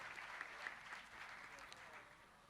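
An audience at a large religious festival gathering breaks into sustained applause, a dense, steady patter of many hands clapping that continues evenly, sounding somewhat distant and faint.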